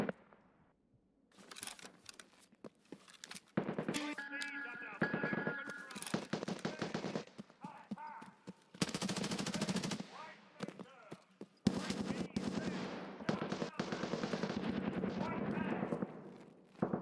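Bursts of gunfire in the shooter game Escape from Tarkov, rapid automatic volleys and single cracks arriving in clusters across the stretch, loud and close, with a voice talking between and over some of the shots.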